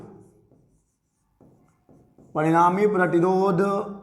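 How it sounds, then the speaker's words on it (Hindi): Writing on a board during a physics lesson on resistor combinations: faint scratching strokes, then a louder, sustained squeaky stroke lasting over a second. "तो इसको भी लिख लेते हैं"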